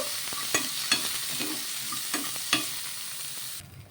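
Green chillies, fresh coconut pieces, tamarind and garlic sizzle in a pan while being stirred, with about five sharp scraping strokes over a soft steady fry, close by, before the sound drops away near the end.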